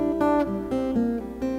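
Fingerpicked acoustic guitar playing a song introduction: a quick run of clear plucked notes in a steady rhythm, heard alone and close.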